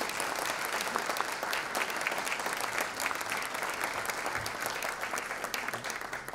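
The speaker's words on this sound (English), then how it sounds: "I want a round of applause for our jazz band" Dense, steady applause from an audience at a high school spring community breakfast, honouring the jazz band, with many hands clapping continuously and fairly loudly throughout.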